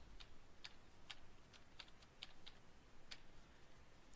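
Keys tapped on a computer keyboard in irregular bursts of clicks against a low steady room hiss, fairly quiet and close, with no talking.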